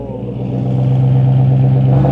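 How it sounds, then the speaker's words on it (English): Idling car with an aftermarket exhaust, a steady loud low drone that swells slightly as the engine warms, heard up close with no clear sharp rev spike. "So we're about to show Chris Sean's exhaust because he hasn't heard it in person"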